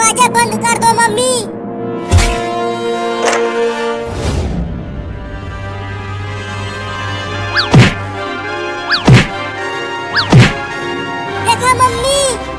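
Heavy thuds of a cartoon cat banging against a door, several loud whacks spaced across the scene with a brief child-like voice early on and between impacts.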